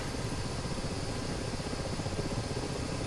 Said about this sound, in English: Now we have to bring the helicopter around until we get a launch cue.